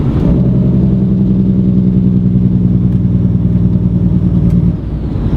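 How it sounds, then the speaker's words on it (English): A truck engine holds a loud, steady, throaty drone under its Jake brake for several seconds, then drops off suddenly near the end. "certainly I can tell when the Jake brake's engaged."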